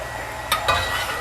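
A utensil scrapes and clinks twice in a pan of stir-fried cabbage over a soft steady sizzle, close and brief, with no talk.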